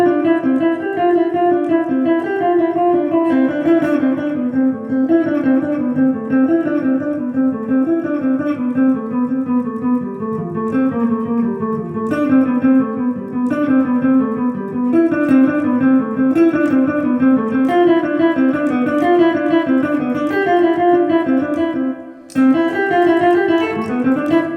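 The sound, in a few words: guitar playing single-string etude, uninterrupted 16th notes with pick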